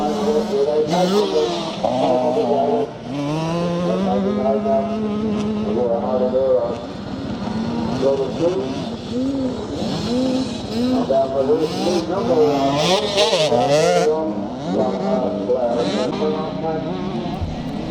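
Vintage Yamaha YZ motorcycles race in a classic charity scramble in Northern Ireland, their engines droning steadily in the distance beneath loud, continuous commentator talk.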